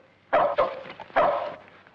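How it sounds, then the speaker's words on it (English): A dog barks three times in sharp, loud bursts, two close together and a third after a short pause, close to the listener with no talk over it. "We'll let Snuffy's dog take us to his cabin"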